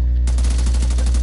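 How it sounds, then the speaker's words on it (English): Rapid automatic gunfire in The Division 2, a loud, steady stream of shots aimed at the player, continuous and close for the full second with no pauses. "Where is that person shooting at me from?"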